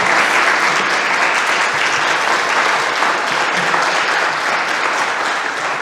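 An audience claps steadily after a talk, a dense, even round of applause lasting several seconds and fairly loud throughout.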